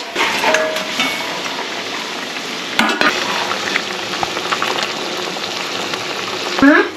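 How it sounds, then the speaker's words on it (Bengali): Fried bhola fish going into a boiling spicy fish curry in a home kitchen, a close, steady bubbling sizzle with stirring scrapes and a few sharp knocks of a utensil against the pan. "ঝোল ফুটে উঠেছে দিয়ে দেবো ভেজে রাখা ভোলা মাছ"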